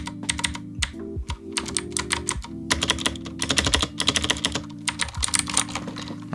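A mechanical computer keyboard being typed on at close range, with rapid bursts of crisp clacking keystrokes broken by short pauses and a few heavier key thuds.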